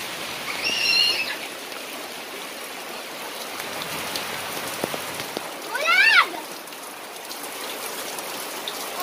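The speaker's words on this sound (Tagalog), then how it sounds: "Naligo kami ng ulan." Steady rain pours down as people bathe in it outdoors, a continuous hiss of falling water with a couple of brief high bird-like chirps and faint voices in the background.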